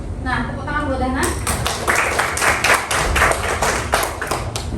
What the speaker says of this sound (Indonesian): tepuk tangan buat Hanan